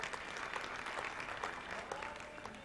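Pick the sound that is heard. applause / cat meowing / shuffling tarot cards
applause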